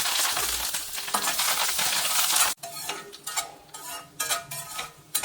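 A tempering of chana dal, cumin, dried red chillies, asafoetida and curry leaves frying in hot oil gives a dense, steady sizzle that drops abruptly partway through, then turns to intermittent spattering bursts.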